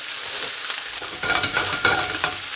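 Small chunks of steak frying in a hot pan, a dense, loud sizzle with crackling pops and stirring scrapes as the meat is spread out, with no voices.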